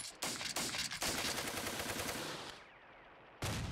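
Squad gunfire in the Steel Panthers war game, dense bursts of rapid shots that break off briefly, then resume, with no talking.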